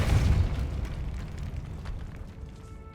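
A heavy magical spell blast from the Hogwarts Legacy video game erupts in one loud, deep boom that rumbles and gradually fades over a few seconds.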